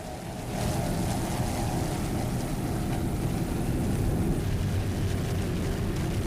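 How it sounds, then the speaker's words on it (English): A 36-foot Fountain racing powerboat with twin 500 hp Mercury inboard engines roars past during an offshore race, a loud, steady engine drone over rushing water that starts abruptly and holds. "Mercury powered, two 500 horsepower Mercury inboards"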